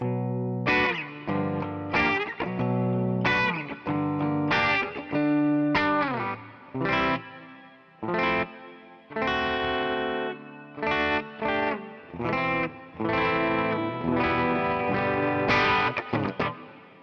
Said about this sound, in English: next we got an AC Clean. It's supposed to be like a Vox AC30.